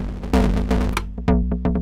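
Synthesized sound from a Bitwig patch with the noise-to-filter connection removed: a few short pitched synth hits with bright sweeping tails, close and moderately loud, no voices.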